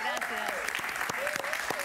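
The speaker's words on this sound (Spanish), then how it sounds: "Un aplauso para ella, por favor." Studio audience in a Miami television show applauding, steady broadband clapping throughout with a host's voice speaking over it.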